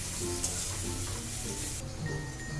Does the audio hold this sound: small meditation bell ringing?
no